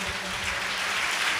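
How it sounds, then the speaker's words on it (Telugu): A church congregation claps together during a sermon, a brief steady wash of applause at moderate distance. "చప్పట్లు కొడదాం గట్టిగా"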